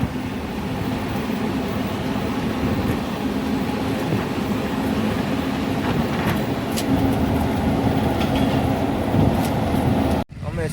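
A train bound for Porbandar rolls along the rails with a steady, loud rumble and clatter that lasts throughout, then cuts off abruptly near the end.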